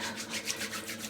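Proraso White shaving soap being rubbed onto a face, a soft, close, rhythmic brushing and scrubbing with gentle repeated strokes, quiet and alone.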